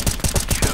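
Loud close automatic gunfire in CS:GO, a quick rhythmic string of about five or six shots in under a second.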